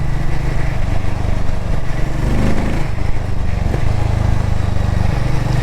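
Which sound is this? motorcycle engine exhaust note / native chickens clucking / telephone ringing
motorcycle engine exhaust note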